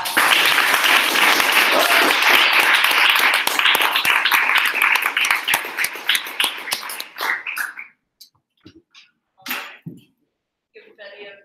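A room applauds after a capstone presentation at a coding bootcamp, a dense round of clapping for about seven seconds that thins into scattered claps and fades to near silence.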